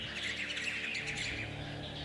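Sound-effect birds squawking and chirping continuously for a tabletop role-playing game attack, a dense overlapping flock cacophony filling the scene, loud and close with no voices.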